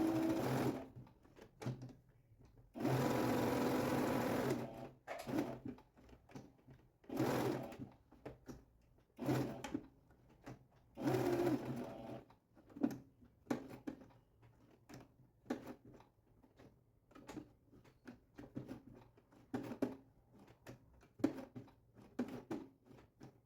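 Sewing machine running a straight seam on a fabric Easter bunny bag project, in repeated short and longer bursts of stitching separated by pauses, close and clear with no talk.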